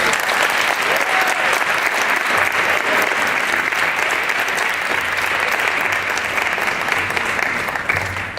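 A crowd at the 2018 Hamtramck MLK breakfast applauds heartily, a dense and sustained round of clapping that stays loud and even throughout before tapering only slightly at the end.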